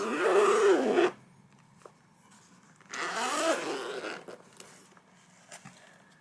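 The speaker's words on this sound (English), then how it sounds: "The YKK zippers are water resistant and smooth and near silent in operation" A YKK water-resistant zipper on an Alpaka Elements Tech Case is pulled twice, two sustained rasping runs about a second long, separated by a quiet pause with faint handling noises.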